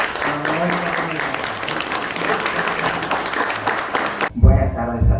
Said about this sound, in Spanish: Fuerte el aplauso para Roberto Romero.